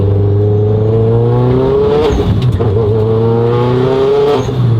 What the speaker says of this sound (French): On va faire une accélération.